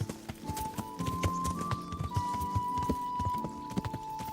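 Horse hooves clip-clop in a quick, regular trot in Kingdom Come: Deliverance, each hoofbeat distinct and close over a faint sustained tone.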